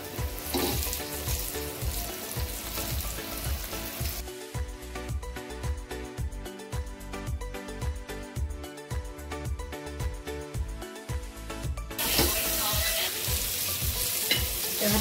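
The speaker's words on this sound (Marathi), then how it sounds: "आणि मग पापलेट फ्राय करून घ्यायचा" Pomfret coated in semolina and rice flour fries in a pan in a Konkan-style fish fry, with a steady sizzle running throughout under prominent rhythmic background music.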